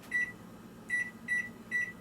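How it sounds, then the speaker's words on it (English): A kitchen timer beeps four times in short, evenly spaced electronic chirps, faint over a steady low hum of room noise. "We're going to go ahead and get our kitchen timer set for 20 minutes."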